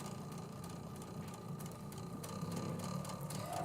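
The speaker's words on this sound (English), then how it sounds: "My machine really does not like the seam today." A sewing machine steadily stitches a seam on a quilt block, giving a continuous, close mechanical whir and rattle throughout with no speech.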